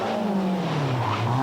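A rally car climbing a hill through hairpins at the 1990 Mobil 1 Rally Challenge, its engine note close and loud, the revs falling and rising again as a gear is missed, with no talk.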